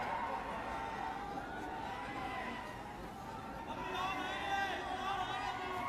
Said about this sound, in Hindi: बहुत सारे लोग आ गए, बहुत भीड़ है